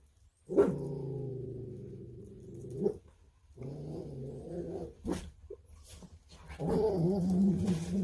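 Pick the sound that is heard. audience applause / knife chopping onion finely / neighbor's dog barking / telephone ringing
neighbor's dog barking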